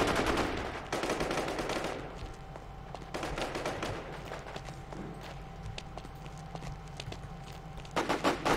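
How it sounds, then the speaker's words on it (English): MP5 submachine gun fire in an online military shooter plays as a steady rattle of quick, moderately loud shots. The bursts sit over game background noise and continue through the whole stretch, with no voices. "let's get my MP5 out"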